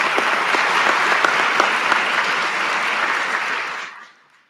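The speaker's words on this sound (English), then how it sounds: "Give them a round of applause if they're not here." Audience at a Louisville Metro Police Department promotion ceremony applauds, a steady round of clapping from a sizeable crowd lasting about four seconds before cutting off sharply.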